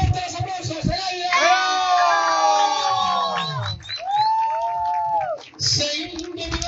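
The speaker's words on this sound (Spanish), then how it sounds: "Ian Chilla, fuerte los aplausos." At a national motocross award ceremony in Chilca, Peru, a crowd cheers and yells loudly for a podium finisher, with long shouted voices and some applause mixed with an announcer's talk.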